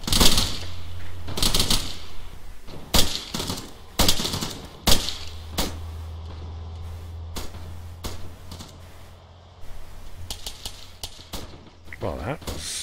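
Battle game gunfire aimed at a technical vehicle: a string of sharp shots and short bursts, some close and loud, others fainter, spread across the stretch with a steady low engine-like hum beneath and talk over parts of it.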